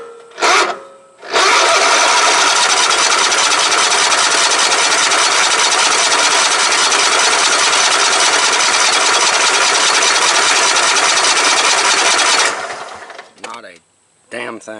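A White riding mower that sat for seven years, fitted with a different fuel pump, cranked over for about eleven seconds in one long, loud, steady starter whir that never catches. A brief voice comes before and after.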